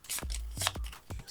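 Playing cards shuffled for a board game: three quick riffling bursts of cards at close range, each ending in a soft tap, with no talk over them.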